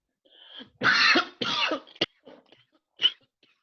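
A person coughs hard in several harsh, raspy bursts, then clears the throat with a couple of shorter hacks, choking on smoke from burning paper, close and alone without speech.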